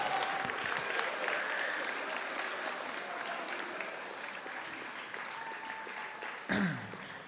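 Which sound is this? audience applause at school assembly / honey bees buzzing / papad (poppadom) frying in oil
audience applause at school assembly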